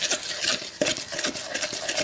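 Spoon scraping and stirring through a thick paste of milk and cinnamon roll bread pudding mixture in a bowl, with quick, soft, repeated rubbing strokes.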